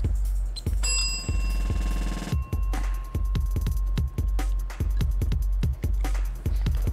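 On a game-show set, a bell rings to start a four-minute eating challenge with a bright ringing tone that sustains about a second and a half, while loud rhythmic thumping beats pulse steadily beneath and after it.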